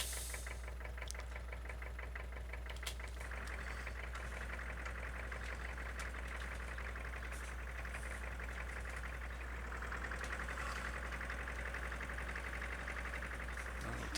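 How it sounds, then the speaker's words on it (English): A tiny two-cylinder engine on a 1940s farm tractor idles steadily with a fast, even knocking beat, close and fairly quiet, with no talking. "Little tiny 2-cylinder engine there."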